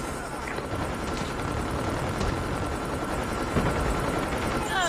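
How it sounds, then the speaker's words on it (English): A friendly stealth helicopter flies in during Call of Duty Mobile gameplay, a steady loud rotor roar with scattered gunfire mixed in. "Friendly stealth chopper inbound."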